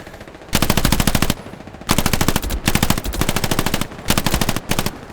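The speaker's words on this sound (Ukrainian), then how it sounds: "там кулемет у вікні стоїть" Machine gun fire from a window in the World War II shooter Hell Let Loose: loud, close bursts of rapid shots in four long strings separated by short pauses, with no talking.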